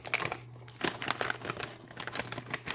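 A paper popcorn bag for popping corn on the cob is folded by hand, giving close, crisp crinkling and rustling in quick irregular bursts.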